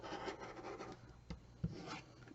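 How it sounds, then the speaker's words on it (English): Quilt fabric being cut along a 3-inch marking makes a faint, close rasping scrape that trails off into quieter rubbing and a couple of soft taps. "I'm going to cut right on that 3-inch marking, since we're trimming these down to 3 inches"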